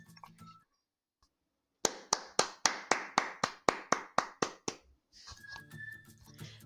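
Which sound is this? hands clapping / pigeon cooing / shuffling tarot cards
hands clapping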